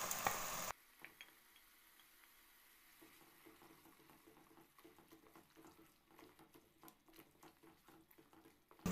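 Ginger garlic paste frying in a pan with onions for a masala rohu fish curry: a soft, steady sizzle with small crackles and pops, close by and fairly quiet, with no talking.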